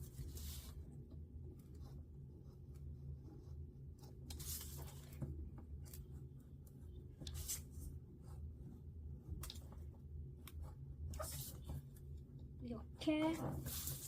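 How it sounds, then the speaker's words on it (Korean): Paper being cut with a knife or scissors to shape the body of a paper F-16 airplane, heard as faint, intermittent crisp strokes spaced a few seconds apart over a low steady background. "먼저 비행기의 몸통을 자릅니다."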